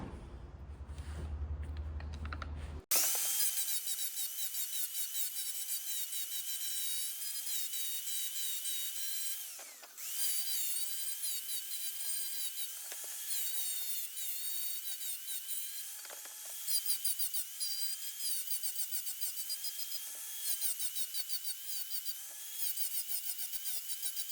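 Sanding a damaged metal propeller blade back toward its original thickness during a weld repair, a steady dense abrasive rasp running continuously with brief dips and scraping strokes, close and prominent with no talking.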